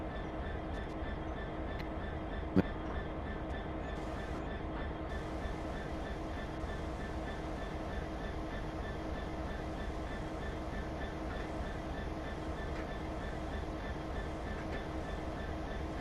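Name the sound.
HST train passing in Train Sim World video game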